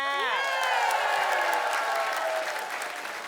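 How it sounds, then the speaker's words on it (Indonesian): A studio audience at a comedy show breaks into dense, steady applause with some cheering, loud and continuous throughout after a short musical sting at the start. "Tepuk tangan dong buat Padat Karya."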